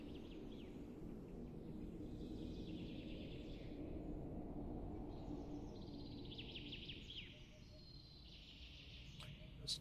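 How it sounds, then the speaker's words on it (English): Faint birds chirp in a morning forest ambience on a Source 2 game map, with scattered high calls over a steady wind rumble through a tunnel and no talking. "you can also hear the birds chirping a little bit"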